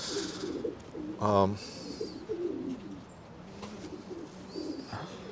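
A pigeon in a racing loft coos once, a short low rolling burst near the middle, fairly close, with faint bird calls and someone talking quietly around it.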